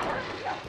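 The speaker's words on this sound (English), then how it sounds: "Weird dog." A dog in a video game gives a single short, muffled bark at moderate loudness.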